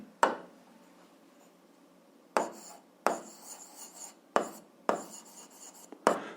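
Pen or chalk scratches out a 7th-grade algebra solution in short separated bursts, each starting with a sharp tap, close up with quiet gaps between strokes.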